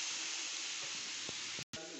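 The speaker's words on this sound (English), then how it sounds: "I'll just pour it into my non-stick frying pan." A food mixture sizzling after being poured into a non-stick frying pan, a steady bright hiss with a few small pops and a brief dropout near the end.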